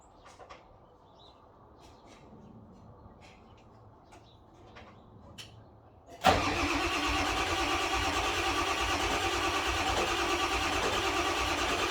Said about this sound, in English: I'm going to start my old IDI right there